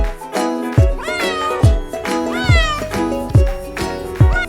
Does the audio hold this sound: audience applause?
no